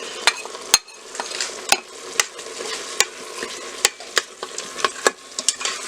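Salt, chili powder, garam masala, coriander-cumin powder and turmeric are stirred into a tomato mixture in an Instant Pot. A spoon clinks sharply against the pot again and again at an uneven pace over a soft, low sizzle.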